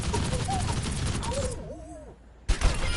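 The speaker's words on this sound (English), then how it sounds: "You launch a volley of explosive rockets like this." A volley of micro missile rockets fired in the Overwatch video game, a dense rapid crackle of launches for over a second, then a brief quieter gap before another loud burst.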